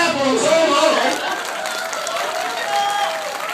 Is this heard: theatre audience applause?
yes